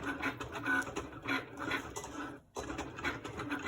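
A Cricut Explorer cutting machine runs with a whirring, stuttering mechanical buzz that pulses in short bursts, stops briefly, then starts again at a moderate level.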